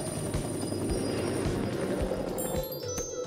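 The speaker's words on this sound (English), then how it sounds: "Cat Noir jumped in his helicopter and flew away." A steady whirring helicopter rotor drone, fairly loud and continuous, with no voices.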